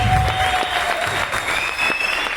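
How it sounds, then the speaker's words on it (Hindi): An audience gives a welcoming round of applause at a motivational talk event, the clapping steady and moderately loud, with faint tonal background sounds mixed in. "तो एक बार जोरदार तालियों के साथ में आप सब सबका भी ऊपर स्वागत करें."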